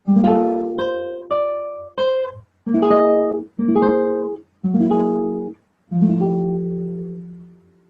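A guitar plays a slow phrase of block chords, each struck and left to ring with short gaps between, closing on a longer sustained chord.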